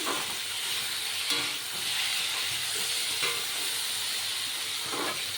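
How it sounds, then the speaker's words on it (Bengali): Potato curry (aloo chorchori) seasoned with nigella seeds cooks in a pan with a steady, even sizzle and hiss that runs throughout, with faint stirring scrapes and no talking. "আলু কেটে তো আলু চচ্চড়ি বসানোও হয়ে গেল কালো জিরে দিয়ে বসিয়েছি"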